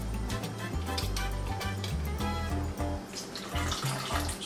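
Distilled vinegar pours into whole milk to make buttermilk for cast iron cornbread, a steady, continuous liquid stream heard close over a low, rumbling background.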